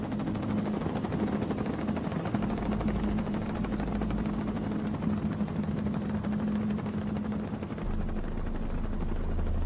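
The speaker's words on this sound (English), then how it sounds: "I'm looking out the window of the helicopter" A helicopter circling over the World Trade Center towers in New York produces a steady, loud rotor drone with a low thudding beat and constant engine whine, heard from inside the cabin with no break.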